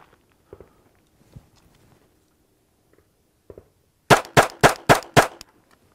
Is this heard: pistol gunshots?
yes